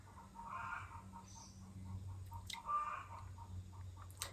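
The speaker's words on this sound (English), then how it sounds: "My chicken is laying an egg, if you can't hear it already." A chicken clucks while laying an egg, faint repeated clucks with a few sharp ticks in a quiet indoor room.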